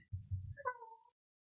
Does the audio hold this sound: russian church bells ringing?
no